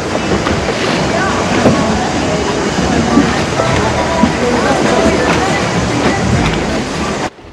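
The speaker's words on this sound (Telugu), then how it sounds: "బోట్లు వెళ్తాయి, బోట్లు ఫాలో అవుదాం" Boats motoring across the open Adriatic Sea toward the Blue Cave, a steady broadband rush of engine and water spray running loud and continuous for the whole span, with wind noise over it.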